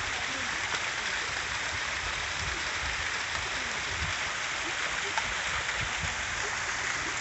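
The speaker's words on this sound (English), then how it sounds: "Here's a really closer view of the waterfall." Steady broadband rush of a waterfall in the Japanese Sunken Tea Garden, San Antonio, Texas, constant and fairly close, with no breaks or changes across the whole stretch.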